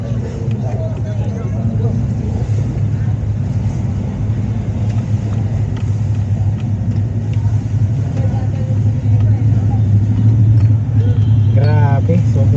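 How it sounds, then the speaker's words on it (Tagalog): Dense heavy traffic in Divisoria, Manila: a steady low rumble of car and truck engines with idling motors, heard from inside a delivery vehicle, with people talking over the continuous noise and a brief horn-like sweep near the end. "Grabe, sobrang traffic dito."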